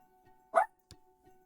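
One short, sharp dog bark sounds fairly close in a quiet room, with a brief fainter yip a moment later.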